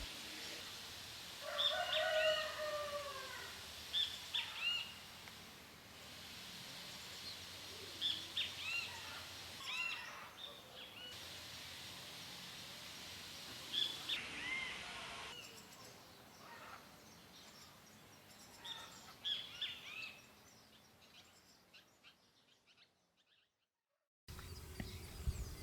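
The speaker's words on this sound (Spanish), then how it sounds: "Un volantón de zorzal. Ya lleva varios días fuera del nido." A thrush fledgling out of the nest calls with thin, sharp, high notes, repeated at scattered intervals over soft outdoor ambience, fairly faint and sounding a short distance away.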